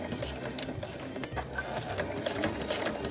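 Sewing machine stitching the side of a fabric card case, a close, fast, continuous mechanical whirr and patter of the needle, steady throughout.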